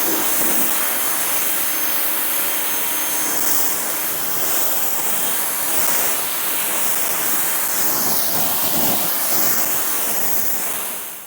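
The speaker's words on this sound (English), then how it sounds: "now it's gonna be the fun part, foaming the car up" A pressure washer foaming up a car, a manual G80 BMW M3, with a loud continuous hiss and rush of spray that swells and eases slightly before tapering off at the end.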